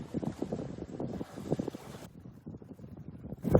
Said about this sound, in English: about 10 knots of breeze, and we are sailing, and we are fishing